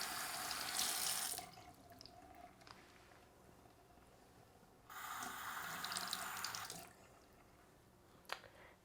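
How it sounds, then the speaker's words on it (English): Tap water runs over a Newtonian telescope mirror in a sink, in two clear bursts of hissing flow separated by quieter trickling and drips, close and fairly loud. "we're going to run some water over it"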